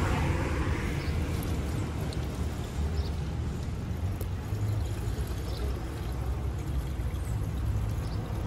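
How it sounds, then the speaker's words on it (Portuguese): Water is poured into a car's windshield washer reservoir out on the street, a continuous splashing, gurgling pour heard close and fairly loud throughout. "Uma aguinha para encher o reservatório de esguichar água no carro."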